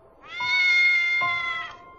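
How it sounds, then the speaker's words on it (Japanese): A cat meows in one long, clear, drawn-out call followed by a shorter second meow, close and alone in an otherwise quiet indoor scene of a Japanese anime. "もしかして、猫と話してるの？"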